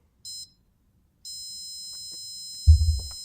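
A Nekomato shogi game clock sounds a short electronic beep, pauses, then holds a long steady high beep that continues to the end, while a dull close thump of handling lands near the finish.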